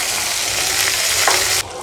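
Onions and mixed vegetables with curry leaves sizzle and fry in a pan, a loud, continuous close-up crackle with stirring that drops off abruptly near the end.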